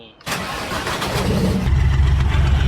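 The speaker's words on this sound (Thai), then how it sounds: "ขึ้นรถสตาร์ทรถ" A vehicle engine in Farming Simulator 19 cranks into life after a short quiet moment, then settles into a loud, steady low rumble of idling that continues to the end.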